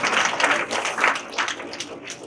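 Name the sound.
applause from students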